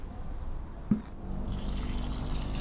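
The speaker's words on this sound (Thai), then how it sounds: "คราวนี้ผมจะเติมน้ำลงไปครับ" Non-chlorinated water pours into a plastic paint bucket to mix a termite-nest fungus microbial culture; a single knock is followed by a steady, close rushing fill that continues to the end.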